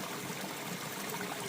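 A wilderness stream near a Wyoming trail camp flows with a steady, close rushing trickle, an even wash of water with no voices.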